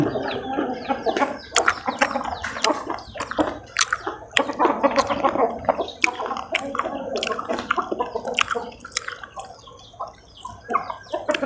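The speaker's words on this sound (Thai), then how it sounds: "เสียงไก่" Chickens cluck and call repeatedly alongside dripping water and kitchen clatter, a busy close-up mix while squid and banana-leaf dishes for tam sua khanom chin are prepared outdoors.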